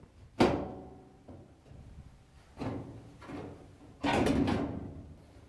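Front panel of a Frigidaire washer pushed down and pulled free: three separate hollow clunks and scrapes of metal panel against the cabinet tabs, close and moderately loud with quiet gaps between.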